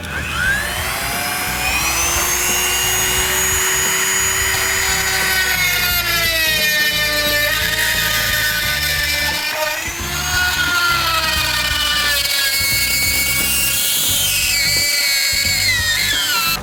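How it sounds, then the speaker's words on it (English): A rotary cutting tool whines loudly while slicing out a panel aboard a boat, its pitch sliding and wavering as it bites and the load changes, running almost continuously with brief dips. "it's very handy to have a rotary cutting tool that can actually just go in and slice everything out"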